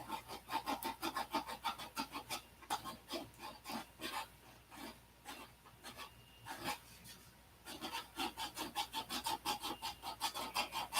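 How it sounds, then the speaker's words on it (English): Hand sanding the edges of a custom piece with a rounded sandpaper block: a steady run of quick rasping back-and-forth strokes, a brief pause mid-way, then the brisk rhythmic scraping resumes, close and fairly quiet. "So now that I got the rounded sandpaper piece in my hand"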